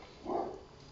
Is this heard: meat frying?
no